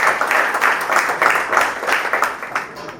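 A crowd at a celebration party for newly selected Punjab patwaris applauds as names are called to the stage. The clapping is steady, dense and loud, with rhythmic surges.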